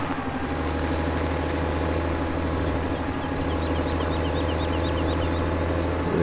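A vehicle engine idles in the farming video game Farming Simulator 2017, a steady, loud, low droning hum that holds without change for several seconds with no talking.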